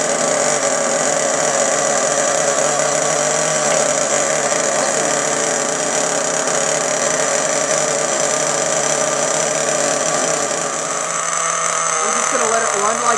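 A Savage X 4.6 nitro RC engine runs steadily at a high, buzzing idle for the whole stretch, loud and close, with a slight dip in tone near the end.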